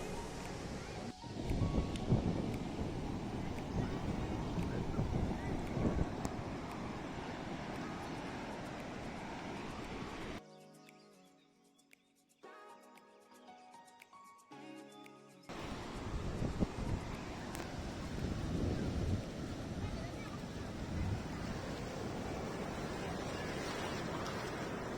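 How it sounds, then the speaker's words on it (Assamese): Big sea waves crash and roll in loudly with heavy wind noise on the microphone, then cut to a quieter stretch before the surf roar returns. "দেখিছে কিমান ডাঙৰ ডাঙৰ ঢৌ আহি আছে"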